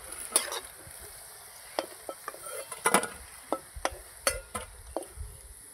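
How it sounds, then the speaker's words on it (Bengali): Jackfruit manchurian pieces fry in hot oil with a faint low sizzle, broken by scattered sharp clinks and scrapes of a utensil stirring in the pan, the sounds close and fairly quiet. "এরকম করে দিয়ে আমি সবগুলোকে ভেজে নেব।"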